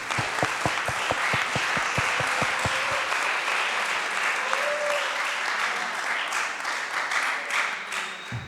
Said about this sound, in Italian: io la saluterei con un applauso da parte della sala di Vittorio Emanuele